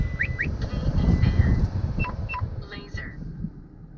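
A Uniden R3 radar detector sounds a few short electronic self-test beeps at start-up, mounted in a 2018 Toyota Tacoma TRD Pro, a quick cluster early on and another pair later, fairly clear over steady low cabin rumble.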